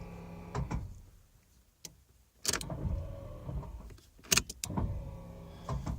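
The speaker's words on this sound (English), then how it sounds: "you can even hear the actuator, or not actuator, but the little switch inside it moving" Pop-up headlight mechanism on a Dodge Daytona under repair, with the small switch inside moving: a faint whirring motor with sharp clicks and clunks spaced apart, close up and without talk.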